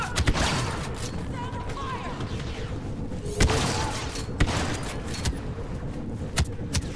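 Gunfire in the Star Wars Battlefront II (2017) video game: scattered sharp shots crack out over a continuous rumble of battle noise, with a player's voice talking over the action.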